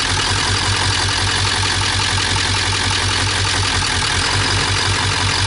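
Idling 2001 Ford 7.3 PowerStroke diesel in an E350 van, a steady loud rumble with a low rhythmic knock running throughout, close by and alone with no talk.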